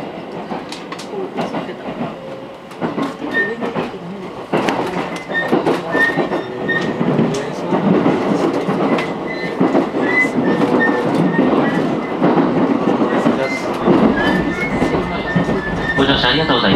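A Chuo Line local train bound for Tajimi, running six cars out of Nagoya, rumbles steadily on the rails with wheel clatter and occasional squeals, with speech and announcements over it throughout.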